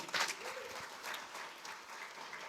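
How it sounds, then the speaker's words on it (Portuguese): A church congregation claps for a pastor, a fairly faint, sustained patter of hands throughout. "dá uma salva de palmas para o pastor"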